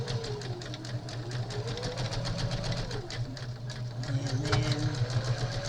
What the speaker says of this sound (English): there's nothing electronic about this sewing machine, so I can still work on this one